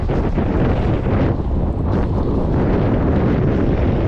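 Strong wind buffets the microphone outdoors near water on a hot sunny day, a loud continuous roar with no talk.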